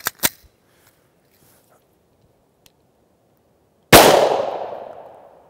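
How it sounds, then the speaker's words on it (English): A Glock 19 pistol fires a CCI 9mm rat-shot shotshell from about ten feet. A single loud, sharp report rings out near the end and decays over a second and a half, after brief clicks of handling. "first one up is going to be a Glock 19 standard config. It's got the rat shot in it about 10 feet away."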